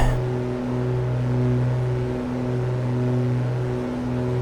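A steady, droning hum of the twin engines of an A2A Aerostar 600 plane in flight simulator play, with faint rhythmic beating between the two engines, continuous and moderately loud with no talking.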